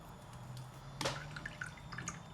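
Water drips softly as a watercolour painter changes the rinse water, with one clearer splash near the middle and a few faint drips over a low room hum.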